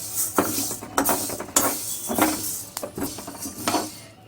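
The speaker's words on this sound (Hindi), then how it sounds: "बिना घी के दाल को भूनना है।" Green moong dal dry-roasted without ghee in a pan over low flame, stirred with a metal spoon that scrapes and clinks against the pan in repeated strokes, with the dry lentils rustling close by.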